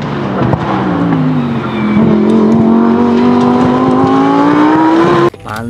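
Engine of a Lamborghini race car revving loudly and steadily, a sustained droning note that climbs slightly before cutting off abruptly near the end.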